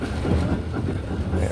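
Trolley running on the East Broad Top Railroad near Rock Hill Furnace, a steady, close rumble of wheels on rail with a faint clickety-clack underneath.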